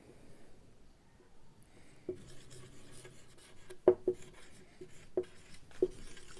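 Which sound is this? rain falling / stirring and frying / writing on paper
writing on paper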